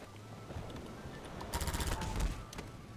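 Rapid automatic gunfire from a weapon in the video game Half-Life 2 Overcharged comes as a quick, fairly faint burst of shots over a low background rumble, with no speech.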